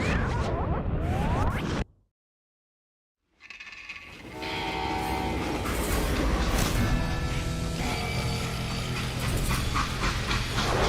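Freight train in the Call of Juarez: Gunslinger video game, a loud horn-like blast and rolling rail clatter, cutting to silence briefly before the train's steady rumble and tonal horn return and carry on.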